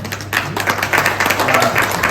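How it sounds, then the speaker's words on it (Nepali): Family members clap at a Christian and Lepcha engagement ceremony, a brief burst of scattered hand claps that keeps a steady, moderately loud patter. "फ्यामिलीले पनि एकदम ताली बजाएर उहाँहरूलाई एकदमै खुसी पार्नु भएको छ"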